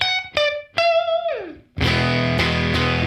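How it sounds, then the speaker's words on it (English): A distorted electric guitar through a UAFX Woodrow '55 overdrive pedal plays a few sustained notes, one bending downward, then crunchy full chords ring out with a roomy reverberant tail. "this is some of the best overdrive saturation that I've heard in a long time"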